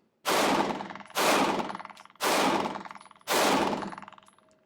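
Four loud, sharp gunshots from a compact SIG Sauer concealed-carry pistol, fired at a steady pace about one second apart, each blast ringing briefly before the next.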